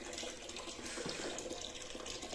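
Tap water runs steadily while tea cups are washed under it, a continuous faint splashing hiss with light clinks and shifts in the flow.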